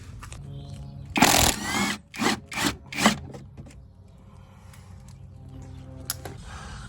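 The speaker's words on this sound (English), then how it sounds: "And then we're gonna remove the 2 nuts up above." Loosening nuts on a Tesla Model 3 rear shock, with a rough scraping burst of metal on metal followed by three quick ratcheting rasps, close up, then a quiet low hum.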